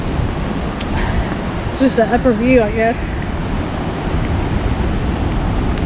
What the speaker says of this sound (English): So this is Cane Creek Falls